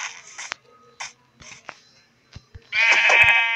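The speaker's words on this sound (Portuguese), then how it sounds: "matar a ovelha" Blocky sheep in the Minecraft video game bleat loudly in short repeated calls, followed by a sustained buzzing bleat at the end, with small clicks and game sounds between.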